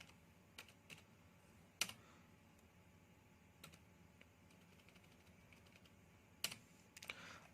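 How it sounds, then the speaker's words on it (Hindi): Keystrokes on a computer keyboard while a paragraph is typed into Microsoft Word, heard as faint, scattered clicks with a few sharper taps, spaced irregularly over a low, steady room hiss. "पहले हम एक पैराग्राफ टाइप कर लेते हैं"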